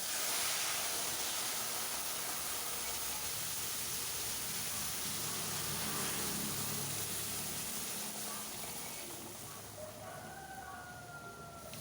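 Dal tipped into hot oil tempered with mustard seeds hisses in a steady, broad sizzle that fills the whole stretch, easing slightly near the end.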